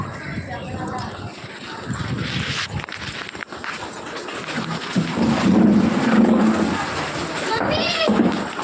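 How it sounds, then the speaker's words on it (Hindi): Strong wind gusts with light rain outdoors, a steady broadband rush rising and falling throughout, loud and close, with people talking faintly underneath. "बहुत तेज से हवा आ रही है और बारिश भी हो रही है।"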